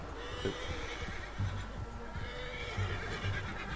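A horse whinnies faintly amid a busy Red Dead Redemption 2 game soundscape, with soft hoof clops and low rumbling ambience underneath.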